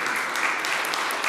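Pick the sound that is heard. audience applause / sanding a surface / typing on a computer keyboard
audience applause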